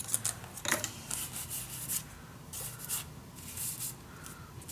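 Scissors snipping paper for a handmade mini album: a series of crisp short cuts and slicing swishes, close and moderately loud, with light rubbing and paper handling between them.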